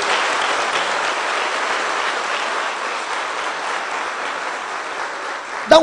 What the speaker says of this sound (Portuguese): Dê uma salva de palmas para o Senhor Jesus